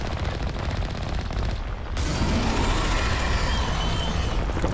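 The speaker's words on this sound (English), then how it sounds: "Oh, they shoot at you." Gunfire shooting at the player in a video game: a dense, loud stream of rapid automatic shots and rattling bursts, continuous for the whole stretch with a brief dip midway, no talk over it.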